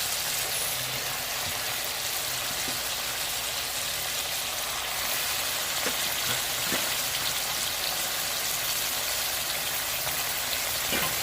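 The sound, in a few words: chicken frying in oil for chicken karahi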